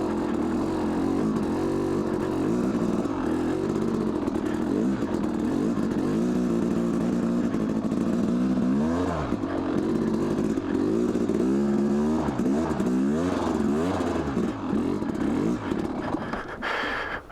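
A Yamaha YZ250 enduro motorcycle, ridden before a teardown and in need of a new back tire, runs close and loud throughout with continuous engine drone and repeated revving swells.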